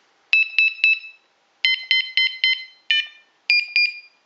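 A Makro Prism metal detector cycles through its tone settings, sounding loud, clean electronic beeps in groups of three to five, each group pitched differently and separated by short silences.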